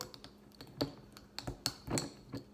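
Homemade toothpaste ingredients being mixed by hand, a series of small, close clicks and taps of a utensil against a container, irregular and sparse over a quiet background with no speech.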